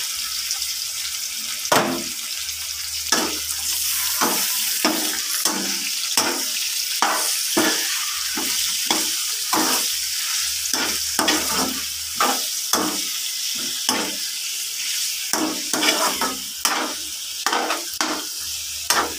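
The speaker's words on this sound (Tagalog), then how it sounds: "Ngayon ako ay nagluluto ng chicken arroz caldo, lugaw" Chicken arroz caldo (lugaw), a rice porridge, cooking in a pot, with a steady sizzling hiss broken by repeated scraping stir strokes at an uneven rhythm, close by and with no talking.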